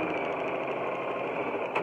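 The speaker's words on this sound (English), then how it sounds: "And we're going to just sew this down." A sewing machine stitches ribbon onto a dish towel for a holiday Santa craft, running in one steady, close mechanical whir for about two seconds with no talk.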